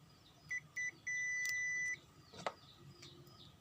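A digital multimeter in continuity test mode sounds clear electronic beeps: two short tones, then one longer sustained tone, followed by a soft click, all close and alone in a quiet room.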